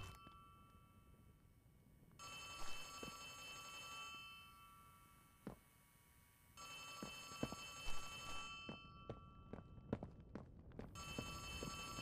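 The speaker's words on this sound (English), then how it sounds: "there's a phone ringing in the corner" A telephone rings in a video game in bursts of bright, repeated ringing separated by quiet gaps, with soft footsteps and thuds between the rings.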